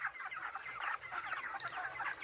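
Broiler chickens on a poultry farm give a continuous chorus of clucking and murmuring, many birds at close range, steady and moderately loud.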